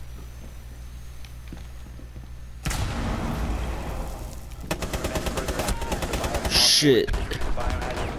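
Rapid automatic gunfire in a video game rattles on close and loud through the second half, after a quieter stretch, with a voice speaking briefly over it.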